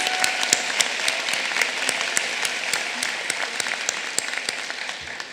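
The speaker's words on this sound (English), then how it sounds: "Can we get a round of applause for these students?" A commencement audience applauds students with perfect 4.0 GPAs at a hotel and restaurant management college ceremony. The clapping is steady and moderately loud, sounds roomy and scattered, and tapers off near the end.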